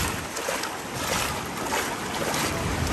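Floodwater pours over the seafront embankment in Lazarevskoye, Sochi, after overwhelmed storm drains send it down Kalarash street, producing a loud, continuous rushing roar mixed with buffeting wind noise on the microphone.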